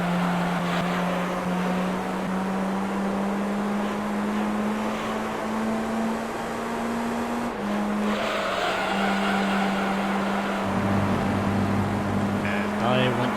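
A Toyota Altezza race car in Gran Turismo 3 drones at a steady engine pitch that slowly climbs, then drops with a gear change near the end, tyre squeal and other cars mixed in, loud and close.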